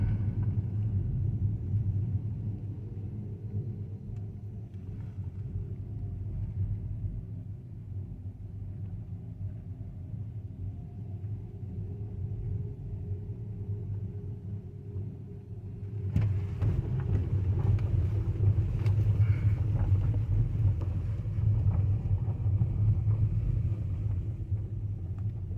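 VW ID.3 electric car accelerating on its own, a steady low road rumble and drivetrain hum that swells louder partway through as speed builds toward about 207 km/h, with no voices.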